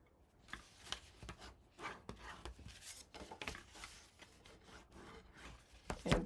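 Scored patterned paper being folded and burnished by hand on a craft table: soft, close rubbing and scraping strokes in an uneven rhythm, quiet and alone, with a slightly louder stroke near the end.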